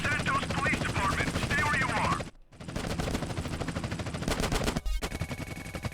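Rapid automatic gunfire rattles in GTA San Andreas, with dense bursts of shots over the noise of a hovering helicopter, loud and close, broken by a brief silence, while people talk over it.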